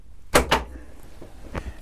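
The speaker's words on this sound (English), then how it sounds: "let me pop the door" A shaved car door on a 1991 GMC opens with two quick, solid clunks close by, followed a moment later by a softer thud.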